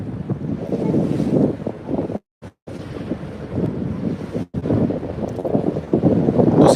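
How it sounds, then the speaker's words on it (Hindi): Cold wind gusts against the microphone at a waterfront spot in Turkey, rumbling in uneven low buffets with a few brief dropouts, water and waves faintly beneath. "ठंडी हवाएं चल रही हैं"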